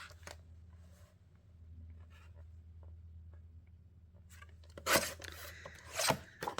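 Paper is cut for a 4 x 5 inch mini album, with a low hum and faint handling noises followed by a few short, bright rasping cuts near the end.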